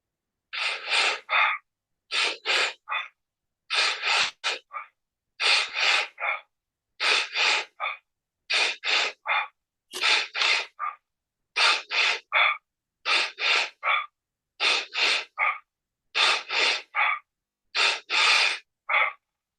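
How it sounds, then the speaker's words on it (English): Deep two-part mouth breathing in a breathwork exercise: about a dozen loud, close inhale-exhale bursts in an even rhythm, each followed by a brief pause, with no talking. "Let the breath just fall out of you on the exhale."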